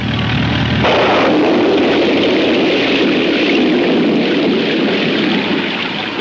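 Heavy rain and rumbling thunder during a farm harvest, a loud, dense roar that swells in after a moment and holds steady throughout, with no voices.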